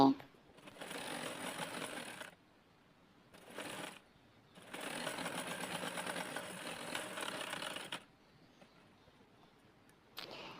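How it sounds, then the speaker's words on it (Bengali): A sewing machine runs in bursts while double-stitching both sides of cloth for a round-cut dress, three loud mechanical stretches separated by short pauses, with a quiet voice heard in the gaps. "আমিও কিন্তু দুই পাশে ডাবল করে সেলাইটা দিয়ে নিচ্ছি"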